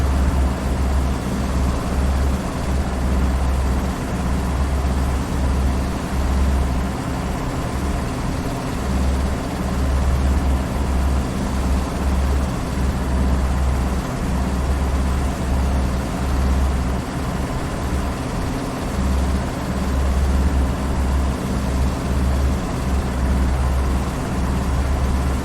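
A Schweizer S300CBi helicopter engine runs steadily during its cooldown before shutdown, a loud, continuous low droning hum with a pulsing throb that holds even and unbroken throughout.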